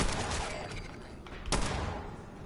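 A video game firefight with explosions: a dense, loud rattle of gunfire bursts, with one sharp, prominent shot standing out near the middle.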